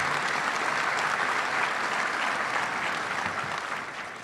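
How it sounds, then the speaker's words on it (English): Audience at a Little Rock Touchdown Club luncheon breaking into warm, sustained applause, dense hand clapping from a sizable indoor crowd that holds steady and begins to taper at the end. "Please give her a round of applause."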